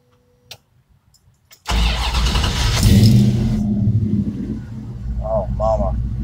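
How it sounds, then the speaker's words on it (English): A 1970 Plymouth Barracuda engine cranks and catches after a quiet moment, then roars loudly and settles into a rumbling idle close by, with a brief voice over it near the end. "Let's fire this thing up."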